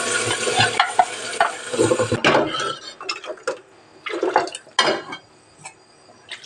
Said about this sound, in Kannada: ಸ್ವಲ್ಪ ಎಣ್ಣೆ ಹಾಕಿದ್ದೀನಿ ಮತ್ತೆ ಈಗ ರುಬ್ಬಿರೋ ಮಸಾಲೆನ ಹಾಕ್ತಾ ಇದ್ದೀನಿ